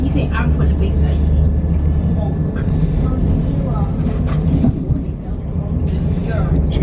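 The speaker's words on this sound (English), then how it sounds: "It's the same trains but a different angle." Trains rumble past on the railway near Burton upon Trent, a steady loud roll with faint squeals and clanks, while a person talks over it.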